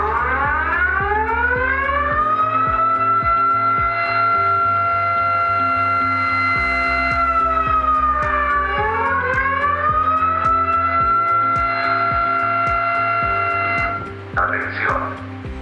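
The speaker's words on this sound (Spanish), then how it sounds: "Alarma activada desde bodega 5" Multi-alert emergency evacuation alarm siren sounding loud and continuous, a wailing tone that sweeps up and down in slow cycles over a steady pulsing low buzz, ending in a brief burst of noise.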